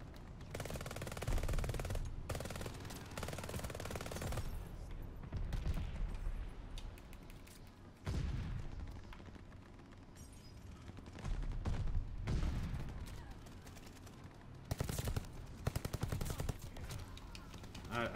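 Gunfire from the Call of Duty Vanguard video game, with repeated bursts of automatic fire and shots mixed with in-game action and other game sounds across the stretch.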